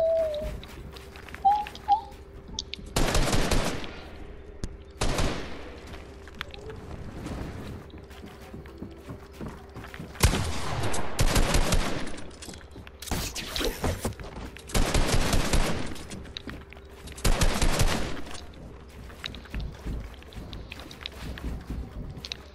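Bursts of gunfire in a one-on-one video game fight, several loud volleys and rapid strings of shots spaced out over steady low background hum, with faint talk between.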